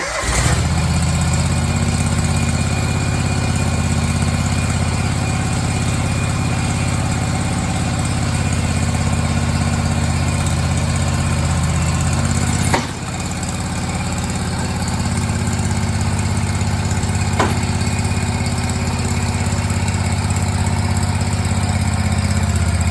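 A Barreto tracked trencher engine starts with a sharp catch and then settles into a steady, loud mid-pitched idle, one brief jolt midway, no talking.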